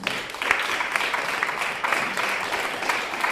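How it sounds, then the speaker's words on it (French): Studio audience applause for performers on a French television show, a steady dense wash of clapping held at an even level throughout. "On peut les applaudir."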